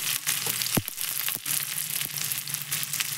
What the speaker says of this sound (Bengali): আমি তেলের মধ্যে পেঁয়াজ দিয়ে দিয়েছি